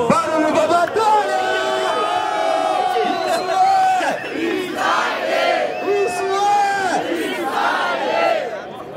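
Crowd at a Brazilian rap battle shouting and cheering loudly and continuously, with excited voices and whoops rising and falling close by.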